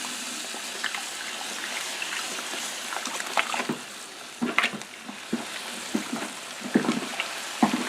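Wheat grain poured and stirred into a bourbon mash with rye: a steady wet, granular hiss with soft scraping strokes and irregular sloshing bumps, close and fairly quiet throughout.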